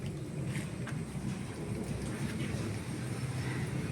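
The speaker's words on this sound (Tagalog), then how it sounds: "Yan, umaambon dito." Light drizzle falls during a coconut harvest outdoors in Montalban, a steady soft hiss of rain continuing evenly without pause.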